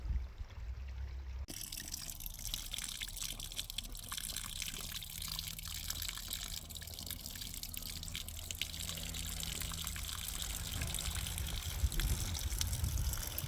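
Steady running water from a small garden pond waterfall fed by an 8-watt pump, a continuous close trickle and splash that holds an even level throughout with no talking.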